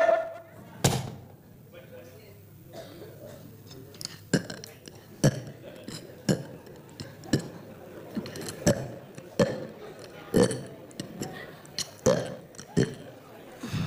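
Repeated deep burps from a person at a Hindu tantric healing session, loud, irregular gulping belches with knocks and clunks among them, a voice talking in between.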